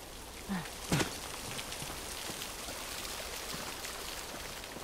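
Steady rain falls in the video game The Last of Us Remastered, a soft continuous hiss of drops on surfaces with a couple of brief thumps early on, and nothing else over it.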